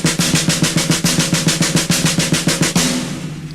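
A drum struck in rapid 16th-note triplets, a brisk, evenly spaced stream of about two dozen sharp, close hits that ends with a ringing decay.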